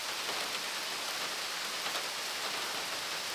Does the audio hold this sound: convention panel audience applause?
no